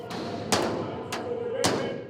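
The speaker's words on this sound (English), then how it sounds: "Demonstrators beating the walls of Georgia's parliament" Several heavy, booming thuds strike at irregular intervals as demonstrators pound the walls of Georgia's parliament in Tbilisi, over a steady roar of the crowd outdoors.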